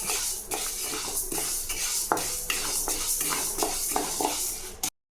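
Lentils dry-roast in a pan while being stirred, a close, steady gritty rustle and scrape broken by light metallic taps of the spoon. No one talks, and the sound cuts off abruptly.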